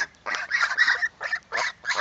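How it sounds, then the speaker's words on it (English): Harsh, raspy guinea fowl alarm calls burst out in quick repeated bursts, loud and close, with short gaps between them. "The guinea hens, they're alerting us."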